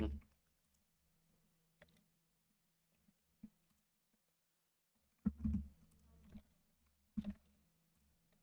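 Sparse clicks of typing on a computer keyboard while coding, with isolated key taps and a couple of short bursts, quiet and close, alongside a low electrical hum.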